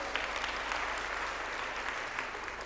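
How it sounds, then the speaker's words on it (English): A large conference audience at the closing plenary of the Global Entrepreneurship Summit 2017 applauds, a dense and steady wash of clapping that holds at even loudness throughout, with no speech over it. "Can we give that a round of applause?"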